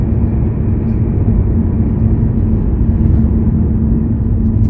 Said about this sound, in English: It's an airplane up above and it's not a commercial plane.